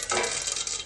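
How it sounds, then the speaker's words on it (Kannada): Mustard seeds splutter in two spoons of hot oil over a low flame, a dense, steady crackle of close, rapid pops with no voices. "2 ಸ್ಪೂನ್ ಎಣ್ಣೆ ಹಾಕೊಂಡು ಸಾಸಿವೆ ಸಿಟ್ಲಿದೆ"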